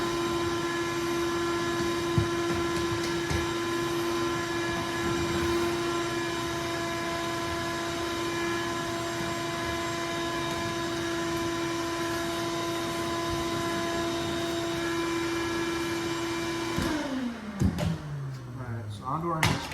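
A vacuum cleaner runs steadily with a strong tonal whine while a work area is cleaned out, then spins down with a falling pitch near the end, followed by light handling clatter.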